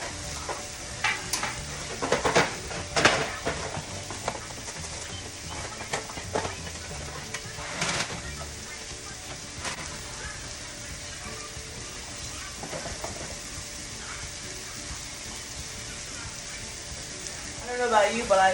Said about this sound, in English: I love the smell of the onions when they're sauteing